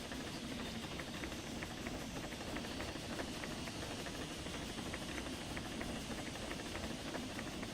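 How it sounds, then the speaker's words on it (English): A steam locomotive in the train game Derail Valley vents steam as a steady, faint broadband hiss with a low mechanical rumble and light rattling underneath, unbroken throughout. "We got to dump some steam here"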